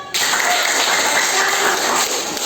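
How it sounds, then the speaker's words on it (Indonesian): A class of students claps on cue from a teacher, with a loud, continuous burst of applause that starts abruptly and holds steady for a couple of seconds in a small room. "tepuk tangan dong"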